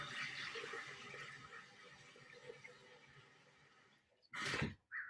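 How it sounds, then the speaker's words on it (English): Steady rushing water pours into a blender holding blue pulp for several seconds, then cuts off, followed by a short louder burst of splashing near the end. "I'm just going to fill the blender with water."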